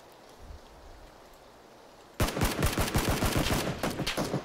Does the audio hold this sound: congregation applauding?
no